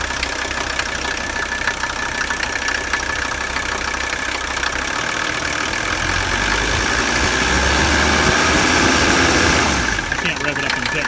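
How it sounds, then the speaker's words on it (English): A 1985 Mercedes 300D diesel idles with a steady clattering knock, then is revved up into a louder, deeper swell before dropping back, with talk over the engine. "I'm going to rev this thing up."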